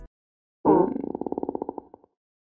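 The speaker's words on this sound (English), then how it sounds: "Let's go to Desi Farts, and this is Balish Fart." Synthesized fart effect from a plugin preset: one abrupt, loud blast that settles into a rapid fluttering buzz of about fifteen evenly spaced pulses, fading out over roughly a second and a half.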